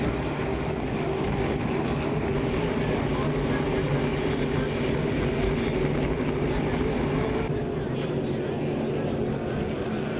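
Hydroplane racing boat engines at a Hydro350 final in St-Félicien, a continuous loud droning roar over the whole stretch, with a commentator talking over it.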